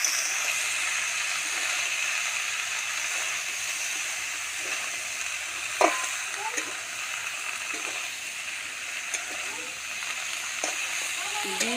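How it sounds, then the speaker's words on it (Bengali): Boiled eggs fry in a pan with spices, making a steady hiss and sizzle throughout, with occasional soft stirring clinks. Faint voices can be heard in the background now and then. "মশলার সাথে ভালো করে কষে নেব।"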